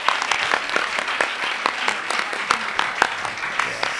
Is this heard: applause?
yes